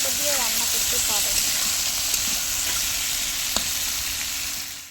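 Cauliflower pieces seasoned with turmeric sizzle steadily in hot oil in a home kitchen, a close, even crackle with a few brief utensil clicks and a short stretch of voice at the start.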